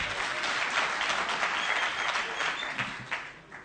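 Audience applause for Solomon Kuria at a gathering, steady dense clapping from a crowd filling the whole stretch without letup, fairly loud and close.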